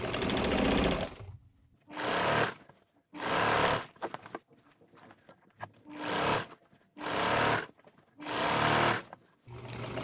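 A sewing machine top-stitches a tote bag in repeated loud, close bursts of rapid needle chatter, about seven runs separated by short pauses.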